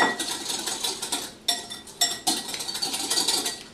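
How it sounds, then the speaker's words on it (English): A metal whisk beats vinaigrette against the side of a bowl in a test kitchen, giving a run of quick clinking strokes with a few sharper knocks, close and fairly loud with no talking. "So all you have to do is stop, whisk just a little bit more"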